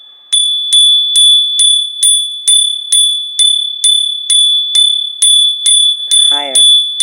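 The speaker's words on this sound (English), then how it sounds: "Let me hit the bell so I can make sure that any negativity, let me get it purified" A bell is struck over and over in a ring-down ritual meant to purify negativity, a steady train of about a dozen bright, sustained strikes ringing loud and close with no talking.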